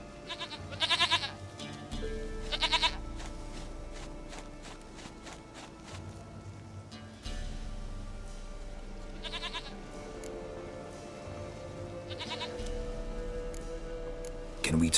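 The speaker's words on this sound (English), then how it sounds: "Goat of mine, dearest," A goat bleats several times in The Witcher 3, short wavering calls repeating every second or two over game ambience and a low background drone.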